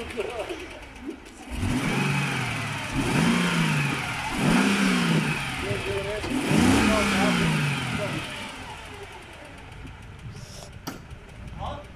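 A Mercedes W210 V8 engine revs up several times on a cold start in rising, falling surges, fairly close, with a person speaking briefly before it settles to idle.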